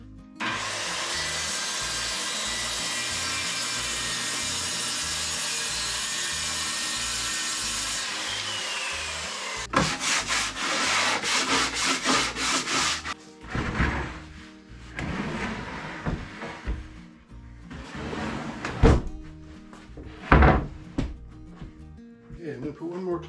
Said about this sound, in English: This piece here we're going to set up now and cut the end off it, that little recess.